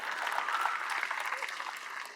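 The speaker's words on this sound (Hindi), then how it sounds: "ताली बजाओ यार." An audience at an academy event claps together in a steady, dense burst that carries on without a break, with some crowd noise mixed into the applause.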